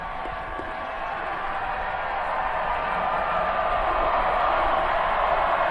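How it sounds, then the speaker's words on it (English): Dense stadium crowd roar at a Northern Illinois at Bowling Green college football game, a steady broadband wash of voices that swells slightly louder toward the end, with no clear voice standing out. "Trying to battle through the crowd noise as well."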